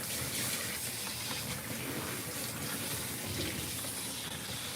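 Running water rinses a cat during grooming, a steady close gush and splash of spray that continues evenly, with no voices.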